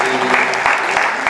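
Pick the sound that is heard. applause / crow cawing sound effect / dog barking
applause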